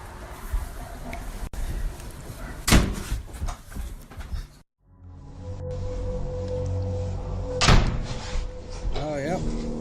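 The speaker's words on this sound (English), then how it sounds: "The door all of a sudden closes on its own." In a bedroom with a dog nearby, a door creaks slowly before swinging quickly shut on its own with a sharp bang, set among shuffling room noise and a brief silent gap.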